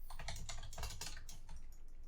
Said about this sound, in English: Oh, those keyboard sounds come in so good.